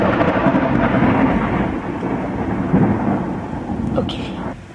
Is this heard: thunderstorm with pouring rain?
yes